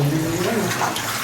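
Hot spring water from a temple bathing kund is poured in a short, continuous splashing rush, with a faint voice murmuring underneath.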